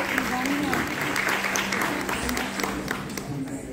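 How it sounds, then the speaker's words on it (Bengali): Applause rings out for Alex at a children's drawing competition award ceremony, steady clapping from a crowd throughout while a voice speaks over it. "অ্যালেক্সের জন্য একটি জোরে করতালি হয়ে যাক আবার"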